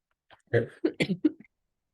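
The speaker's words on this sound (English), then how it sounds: "I'm about to cough" A short burst of several harsh coughs in quick succession, close and fairly loud, then silence.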